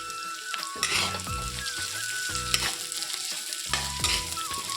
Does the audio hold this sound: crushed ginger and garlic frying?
yes